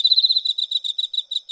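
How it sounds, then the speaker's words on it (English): A male cricket chirps in a fast, steady, high-pitched pulsing trill that repeats in short even bursts, close and clear with nothing else heard. "So male crickets chirp as part of a communication to females."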